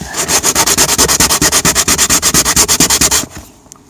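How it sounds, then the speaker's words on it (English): Rapid rhythmic sanding strokes on a repaired vinyl car seat in a Volvo C30, about eight per second, steady and close, stopping abruptly near the end. "a bit of sanding."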